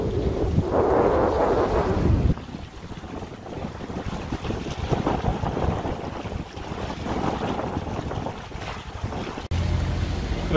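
Steady wind roars across the microphone with rushing water and sailboat noise as the boat tacks, a loud gust at the start easing into a constant windy wash.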